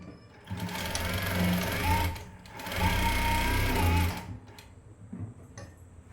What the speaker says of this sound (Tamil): ஸ்டார்ட் பண்ணுற இடத்துலையும் முடிக்கிற இடத்துலையும் ரஃப் தையல் போட்டு முடிச்சுக்கோங்க